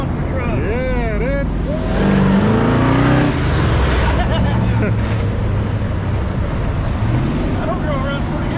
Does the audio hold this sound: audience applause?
no